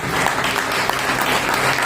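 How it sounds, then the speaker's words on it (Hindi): A church congregation at a Sunday service breaks into loud, sustained applause, dense clapping filling the room evenly without pause. "आइए जोरदार ताली होनी चाहिए।"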